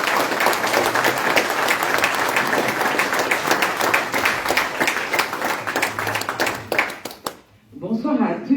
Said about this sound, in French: Mesdames et messieurs, veuillez applaudir Madame la députée Dina Diop.